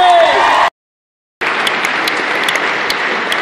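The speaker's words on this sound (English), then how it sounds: "Big round of applause for Kelsey, everybody!" A large convention crowd applauds for Kelsey, loud sustained clapping that cuts to a brief silent gap and then resumes at full strength, steady until the end.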